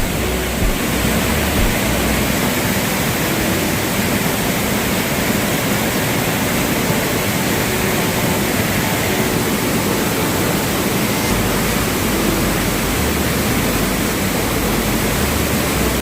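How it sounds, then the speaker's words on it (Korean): A mountain stream and waterfall swollen by overnight rain roar in a dense, unbroken rush of water that stays loud and constant throughout, with no other sounds standing out. "물소리가 대단해요. 어젯밤에 내린 비로 등산로도 완전 물길이에요."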